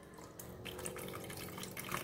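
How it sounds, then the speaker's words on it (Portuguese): A little water is poured into a Marmi Quent electric lunch box heater under repair, a steady close trickle with light splashing that runs the full two seconds without talk. "Vou botar somente um pouquinho d'água"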